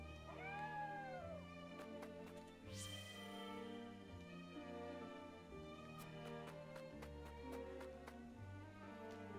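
In Triangle Strategy, a game cat gives a couple of short, clear meows early on, set over steady in-game background music with light percussive ticks.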